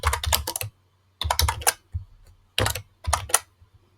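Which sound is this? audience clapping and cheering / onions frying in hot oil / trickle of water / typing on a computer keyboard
typing on a computer keyboard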